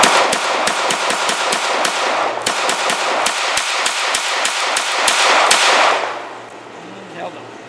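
A B+T TP9 pistol with a folding brace fires a long rapid string of loud, close gunshots in steady rhythm, then falls quiet near the end.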